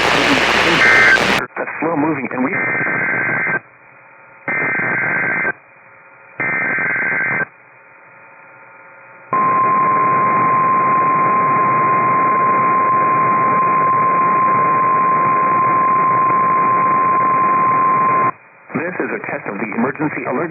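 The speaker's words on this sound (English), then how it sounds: "Emergency Alert System and NOAA Weather Radio's warning alarm" Emergency Alert System and NOAA Weather Radio warning alarm on a radio test broadcast: several short, harsh digital data bursts, then a loud, continuous single-pitch alarm tone lasting about nine seconds, followed by another burst.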